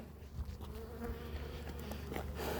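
Honeybees buzz steadily around a hive in autumn, a dense, continuous insect drone that holds close and fairly loud throughout, with no voices over it.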